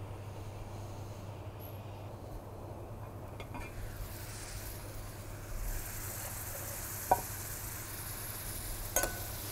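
A pan of butter-steamed vegetables sizzles softly as the last of the liquid evaporates, a low steady hiss with a few faint clinks near the end.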